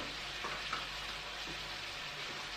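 Ground spices such as coriander and red chili powder frying in a pan with chickpeas, a steady soft sizzle throughout with a few faint scrapes, no talking.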